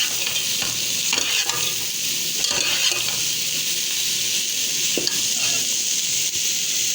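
Potatoes and bottle gourd sizzle steadily while being stir-fried in a pan, with a constant loud frying hiss and scattered scrapes and clinks of a utensil against the pan.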